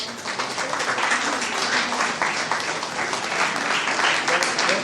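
An audience at a CONFEMEN 60th anniversary celebration applauds the secretariat staff, dense, sustained clapping from a large crowd that holds steady throughout.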